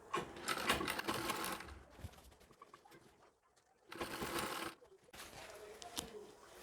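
A sewing machine stitches along a sari border in two close, loud bursts of rapid whirring separated by a quiet pause, with pigeons cooing faintly in the background.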